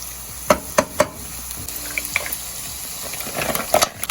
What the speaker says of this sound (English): Now we're going to add the mussels.